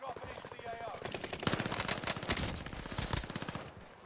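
Bursts of rapid automatic gunfire from the Warzone shooter video game, a dense rattling stream of close shots for a few seconds.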